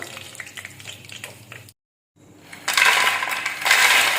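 Curry leaves crackle and spit in hot oil, a close sizzle that drops out briefly, then returns louder and brighter in a sustained frying hiss, with no talking.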